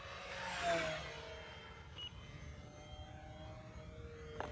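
An E-flite P-51D Mustang RC model airplane flies past at full throttle, its electric motor whine rising and falling as a Doppler sweep, loudest early then fading into a distant drone outdoors.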